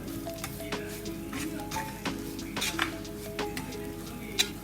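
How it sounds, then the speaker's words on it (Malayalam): Fennel powder stirred and roasted in a pan for a Kerala beef curry, with a ladle scraping and clinking against the metal pan over a faint sizzle, quiet and close. "അതും ചെറുതായിട്ടൊന്ന് മൂപ്പിക്കാം."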